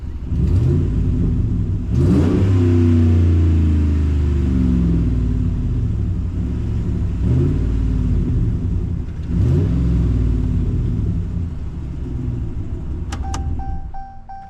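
A Hemi V8 in a 2013 Ram Sport crew cab 4WD pickup idles with a deep rumble, then revs up loudly several times and settles back down, close by.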